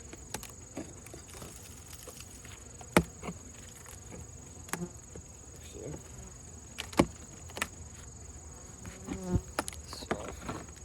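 Honey bees in an opened, lightly smoked beehive drone with a steady buzzing hum, punctuated by several sharp clicks and knocks from handling the hive.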